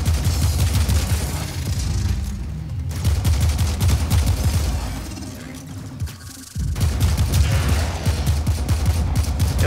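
Ship weapons in the Warframe Archwing game fire in dense, rapid bursts, loud and continuous, with booming low thuds under the gunfire and only brief pauses.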